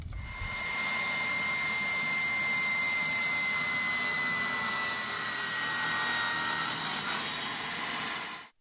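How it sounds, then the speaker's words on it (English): A saw, table or circular, cuts through LVP flooring planks in a shed, a loud, continuous whining rasp that holds steady for several seconds before cutting off abruptly. "probably the best way to cut it is with a table saw or a circular saw"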